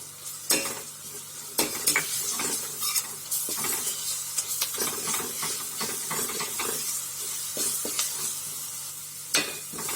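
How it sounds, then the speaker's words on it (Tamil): Ginger garlic paste sizzling with onions in a hot pan, a steady loud frying hiss broken by repeated scraping stirs and clinks of a spoon against the pan, with no talking. "நாளைக்கு 2 டேபிள் ஸ்பூன் அளவு இஞ்சி பூண்டு விழுது போடுறேன்."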